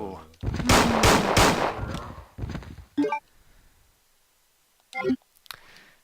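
Revolver shots ring out in Bio Hazard 2, a loud cluster of blasts followed by a few separate sharp reports spaced apart with silence between them.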